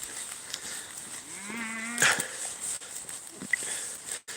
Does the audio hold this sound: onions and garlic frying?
no